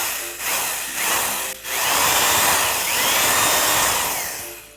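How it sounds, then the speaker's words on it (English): A power drill bores into a whole watermelon to fit a keg spigot, whirring loudly and close up in short bursts that stop briefly, then settle into a long sustained run. "I got my drill here, and I'm thinking somewhere about there would work."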